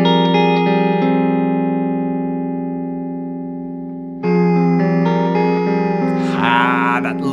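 A guitar played through a Strymon Brigadier delay pedal set to a long delay time: a sustained chord rings and slowly fades, then a new loud chord enters with repeating echoes and a warbling, bending tail.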